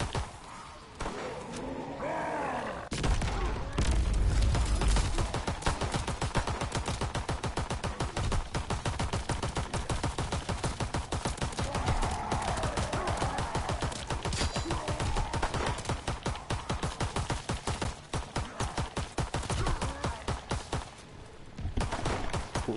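Rapid pistol gunfire in the video game The Shadowed Throne, a dense, nearly continuous string of sharp shots with thuds and impacts, loud and close throughout.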